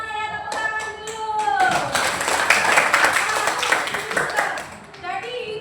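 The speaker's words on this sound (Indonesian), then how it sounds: "tepuk tangan dulu" Schoolchildren in a classroom coding lesson clap their hands together in a loud, rapid burst lasting several seconds, with a voice speaking just before and after.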